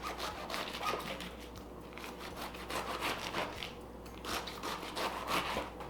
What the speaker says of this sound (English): And then we're just going to slice it up.